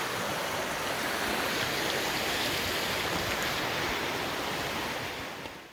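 A swollen creek rushing hard after a day of heavy rain, with close, steady, roaring broadband water noise that stays continuous and loud throughout, easing slightly at the very end.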